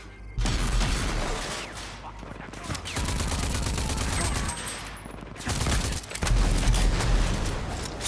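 Dense gunfire and grenade blasts from the shooter game Rage 2 pour out almost nonstop in loud rattling bursts, with heavy booms at the start and near the end.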